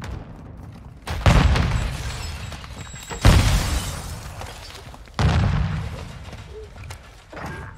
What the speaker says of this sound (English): Set a charge on the target and detonate it.